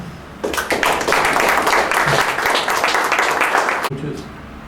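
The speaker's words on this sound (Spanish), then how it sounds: "Quiero pedirles que recibamos un aplauso a nuestro panelista de hoy, el ingeniero Durán Nieto." Loud, dense applause for a panelist at a talk on the evolution of wave forecasting breaks out after a brief pause, holds steady for a few seconds, then cuts off sharply and leaves low room noise.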